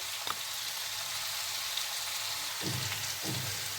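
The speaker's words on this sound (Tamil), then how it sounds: "இப்போ இது இன்னும் கொஞ்சம் நேரம் வதங்கட்டும்" Food sautés in oil in a pan with a constant, even sizzling hiss, close by, broken by a few soft scraping stirs near the end.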